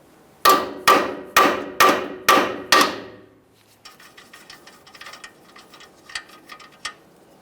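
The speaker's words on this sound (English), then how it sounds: "we'll start lightly tapping on this area" A hammer strikes a steering knuckle on a 2015-2020 Ford F-150 to free the tie rod end. Six sharp, ringing metal blows land in a steady rhythm, then quieter clinks and taps follow.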